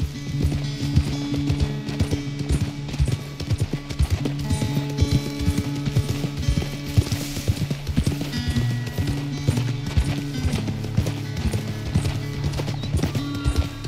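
A horse gallops at speed in Red Dead Redemption 2, its hooves beating a loud, steady clip-clop rhythm close up throughout, layered over a continuous bed of game music.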